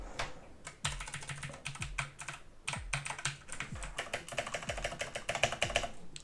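Typing on a Blitzwolf BW KB1 63-key RGB keyboard produces a fast, continuous clatter of loud keystrokes with heavier thocks mixed in, recorded close and played alone.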